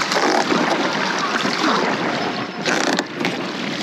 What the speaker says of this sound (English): we're probably some of the first people who are rowing in a dinghy like this on Rio Diablo